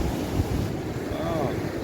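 Sea waves and wind on a Kerala beach, a broad, steady roar with buffeting wind noise on the microphone, loud and continuous throughout.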